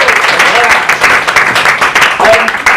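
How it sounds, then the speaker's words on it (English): A comedy club audience breaks into a loud round of applause, with dense, steady clapping throughout that swells slightly and stays close and continuous. "quick round of applause for Sal, your wonderful compare"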